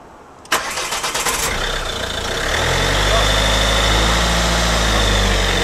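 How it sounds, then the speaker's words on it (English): A 2007–2012 Ford Mondeo 2.0 TDI diesel is cranked after a fuel filter change. The starter whirs rhythmically for about a second before the engine catches and settles into a loud, steady idle close by. "the final step is to see whether the engine starts"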